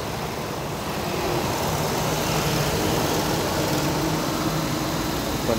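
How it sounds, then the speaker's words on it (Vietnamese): A Hyundai i family car idles with its air conditioning running, a smooth, steady low engine hum and fan whoosh that holds constant at close range. "Máy nổ khá là êm."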